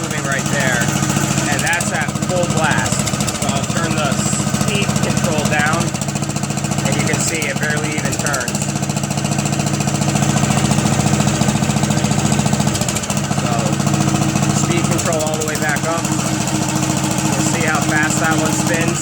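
A drive motor on a 1 ton roller runs at full speed, giving a loud, steady mechanical hum and rattle with a rhythmic knocking. A person talks over it now and then.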